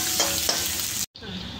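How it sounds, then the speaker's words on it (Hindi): Shredded cabbage and capsicum stir-fry in a hot pan, a loud steady sizzle with a couple of scraping stirs, cut by a brief dropout before the frying resumes. "डाल के इसको थोड़ा फ्राई करना है।"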